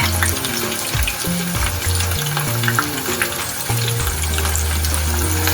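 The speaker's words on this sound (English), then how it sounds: "Now the onions are going in." Chopped onions sizzle and fry steadily in a hot pot while bean porridge is being made, a continuous crackling hiss that runs the whole time beneath a steady, low tonal backing.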